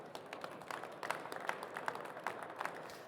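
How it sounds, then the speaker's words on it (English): Faint, scattered applause from a small audience at a hydrogen and fuel cell industry pitch session, light uneven claps heard from a distance for about three seconds. "So once again, applause for Paul."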